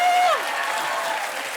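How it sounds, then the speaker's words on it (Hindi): A studio audience on the Hindi comedy talk show The Kapil Sharma Show claps, steady, full applause continuing after a brief tone. "एक बार ताली हो जाए"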